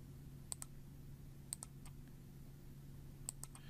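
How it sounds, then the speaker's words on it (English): Left mouse clicks in quick pairs, three sharp double clicks spaced about a second apart, crisp and close against a quiet steady hum. "just go ahead and make a series of left mouse clicks as we draw our line around the area of interest."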